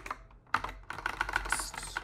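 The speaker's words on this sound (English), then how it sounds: "if I start typing" Fingers type on a computer keyboard, a quick uneven run of soft clicking keystrokes close to the mic, fairly quiet, with no talking.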